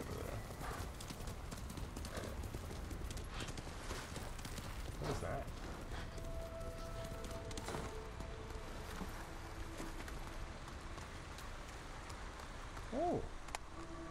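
Galloping horse hooves from Ghost of Tsushima, a steady rapid clip-clop running throughout over a rustling, rain-like ambient bed, with a brief whinny near the end.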